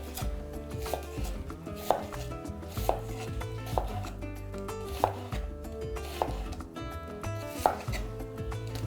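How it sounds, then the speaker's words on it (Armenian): A knife slices an onion into wedges on a cutting board, with about nine crisp, evenly spaced chops close up against a faint kitchen background. "Վերցնում ենք 1 գլուխ սոխ, կտրատում ենք այն փետրաձև"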